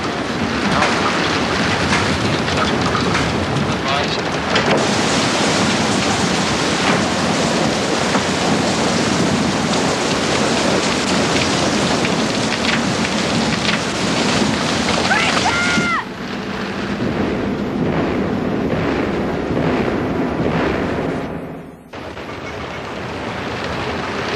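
Heavy hurricane wind and rain roar continuously and loudly, with a brief dip and a sharp gap near the end before the storm noise resumes.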